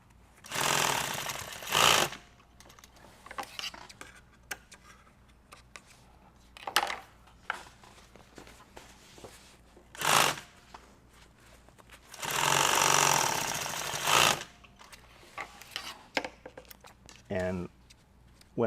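Industrial sewing machine stitching nylon tactical gear in bursts, short runs at about 1 s, 7 s and 10 s and a longer run near 12.5–14 s, with quieter handling noises between.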